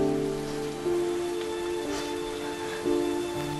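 Steady rain on a surface, a continuous hiss behind sustained tonal music notes.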